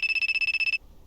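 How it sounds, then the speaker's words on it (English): A phone ringing in a video game: a fast, bright electronic trill of about a dozen rapid pulses that cuts off abruptly, loud and alone. "My phone starts to ring."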